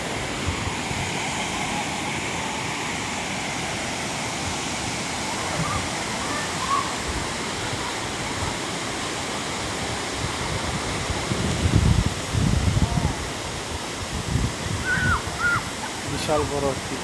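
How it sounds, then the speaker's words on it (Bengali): A large waterfall at Lubuk Timah, Perak roars in a constant, dense wash of rushing water, with faint voices briefly audible near the end. "ঝর্ণার শব্দটা আপনারা অবশ্যই শুনতে পাচ্ছেন"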